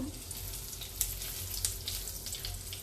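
Spices (dried red chilli, bay leaf and cumin seeds) sizzle steadily in hot oil, a soft continuous crackle with a couple of sharper pops.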